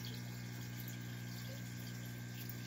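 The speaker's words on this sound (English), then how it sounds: "chuck a pump, a little hose, use a little clip from water change," A small pump pushes water through a thin hose into an aquarium tank, a faint, steady hum with a soft trickle of running water that never changes.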